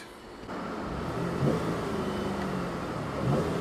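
A 2014 Buick LaCrosse engine revs at full throttle, held near a 3,000 RPM limit. The steady, muted mid-pitched drone comes from inside the car, with a couple of small rises in pitch.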